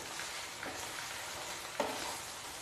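Ash gourd (chal kumra) with coconut frying in a pan, a steady sizzle broken by two brief scrapes of the stirring spoon, at moderate level with no talk.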